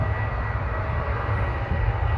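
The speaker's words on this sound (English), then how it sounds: "It's cool with some planes in the background here, even though they are quite noisy." Airplanes roar overhead at a distance, making a steady, broad, rumbling drone that fills the whole stretch at a fairly loud level, with no one talking.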